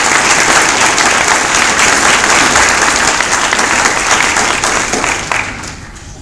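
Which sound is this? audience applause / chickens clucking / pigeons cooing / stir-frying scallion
audience applause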